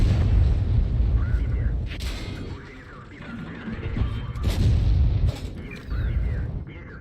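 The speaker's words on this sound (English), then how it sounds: "I'm gonna get hit by artillery" Heavy artillery fire in World of Tanks, repeated booming impacts and blasts rolling under ongoing battle noise, with a voice talking in between.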